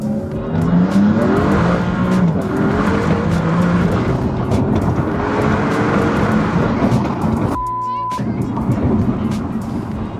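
Maserati MC20 with a modified exhaust drives hard, its loud, close engine revving and pulling through several gears with tire noise mixed in, then briefly quieting before the engine picks up again.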